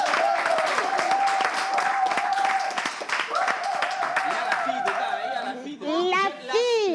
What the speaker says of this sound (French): Est-ce qu'on peut applaudir les garçons, s'il vous plaît?